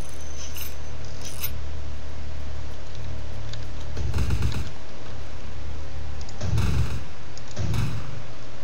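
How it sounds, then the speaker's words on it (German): Gunfire in the video game Vampire: The Masquerade – Bloodlines, a few short sharp bursts of shots over a steady background hum of game sound, spaced irregularly and fairly close. "Geiler Bug, du schießt durch das Gitter durch."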